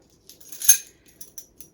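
Small metal measuring spoons clink together in a few brief, light taps, one brighter jingle in the middle followed by softer scattered clicks, close by with no talking.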